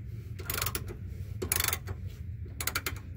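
A ratchet wrench tightens the fuel filter on a 2016 Chevy Colorado with the 2.8 Duramax diesel, producing three close, quick bursts of clicking over a low engine-bay hum.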